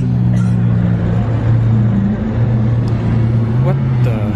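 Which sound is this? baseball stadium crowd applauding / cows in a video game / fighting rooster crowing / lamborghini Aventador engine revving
lamborghini Aventador engine revving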